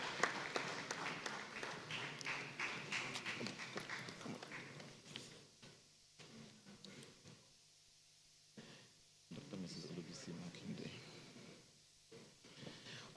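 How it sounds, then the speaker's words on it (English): An audience at an annual banking and finance awards ceremony applauds an award recipient as she takes the stage, a faint patter of clapping that rises, drops to near silence in the middle, then picks up again. "Please put your hands together for her"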